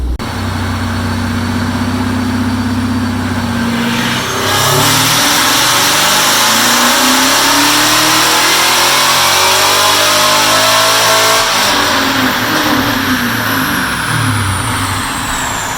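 A car engine starts from cold and revs on a dyno, a loud sustained roar that climbs steadily in pitch, drops back, then winds up again, close and dominating throughout.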